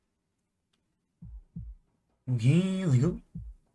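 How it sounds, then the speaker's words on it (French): Heartbeat sound effect in a GeoGuessr game, a few soft low thumps in a slow rhythm, interrupted by a short spoken phrase in the middle; quiet overall. "Des petits bruits de battement de cœur là."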